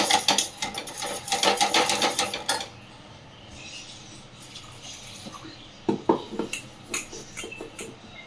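A spoon stirs food in a pot with a quick run of rhythmic metal scraping and clinking, then quieter scattered taps against the pot, close by and without voices.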